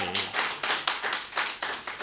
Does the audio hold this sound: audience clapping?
yes